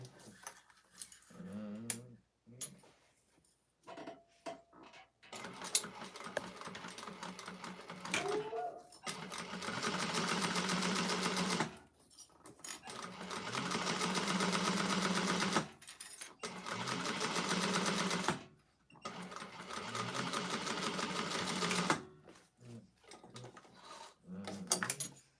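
A sewing machine stitches a quarter-inch seam on a fabric clutch wallet, running in several long steady bursts separated by pauses with small handling clicks and someone speaking briefly between runs.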